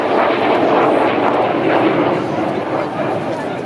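Red Arrows jets flying past inverted at the Sunderland Airshow, a continuous loud roar of jet engines sustained throughout, with a crowd and commentator talking underneath.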